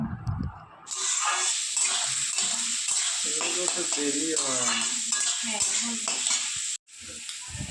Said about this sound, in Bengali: এবার ক্যাপসিকাম কুচি আর বিনস কুচিগুলো দেব দিয়ে এগুলোকে ভালো করে ভেজে নেব